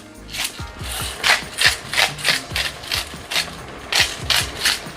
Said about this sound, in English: I'm gonna buy the next salt that you don't have to grind too much